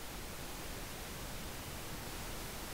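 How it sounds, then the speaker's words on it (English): Pink noise test signal from a Behringer Wing mixer, a steady, uniform broadband hiss that stays constant and unbroken throughout. "So that's just the natural pink noise sound."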